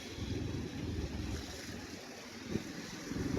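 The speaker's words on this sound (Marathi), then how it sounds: "मोठ्याले मोठ्याले गाड्या नुसत्या अंगावर पाणी उडून जातात" Large vehicles splash through water on a rainy road near Matheran, a steady broad wash of spray and rushing water with a few sharper surges, close and continuous, no talk.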